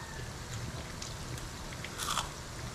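Faint crunchy bites and chewing of a crispy papaya and shrimp fritter, close to the mic, with a louder crackling crunch near the end.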